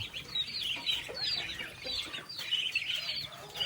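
Farm chickens cluck and chirp close by, with repeated busy calls overlapping one another against a low background hum and no talking.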